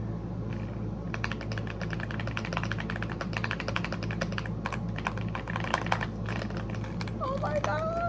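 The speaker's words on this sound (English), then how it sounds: "And that is the keyboard." Rapid clacking of keys on a computer keyboard, steady bursts of close typing with brief pauses, while a person talks over it.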